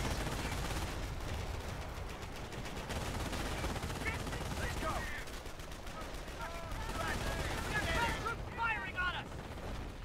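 Dense battlefield gunfire from a Company of Heroes Omaha Beach landing mission: sustained machine gun bursts and rifle shots over rumbling explosions, with a voice speaking partway through and a busy, continuous din throughout.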